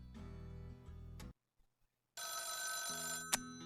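In the video game Rogue State, a telephone bell rings loudly in two long electronic bursts separated by a short silence, ringing alone with no voices.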